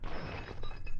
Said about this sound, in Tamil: ஐயோ கிளாஸ் உடைஞ்சிருச்சு